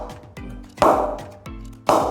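An English willow cricket bat, an old bat, tapped a few times, each tap giving a sharp wooden ping with a short ringing decay, close and clear with no talk.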